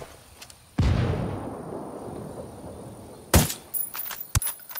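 A frag grenade blast in the video game Ghost Recon Wildlands: one loud, close explosion that rumbles and decays over a couple of seconds, followed by a few sharper, nearer bangs or gunshots.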